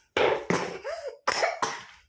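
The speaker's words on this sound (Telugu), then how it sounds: "దగ్గు వస్తుంది కదా" A child coughs several times in short, sharp bursts with a brief pause between them, close and fairly loud.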